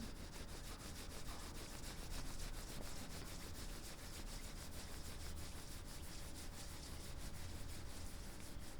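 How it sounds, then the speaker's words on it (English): Palms rub together during a guided meditation, a steady, even hiss of skin friction that holds without pause for several seconds, close and soft, with no talking. "Please rub your palms."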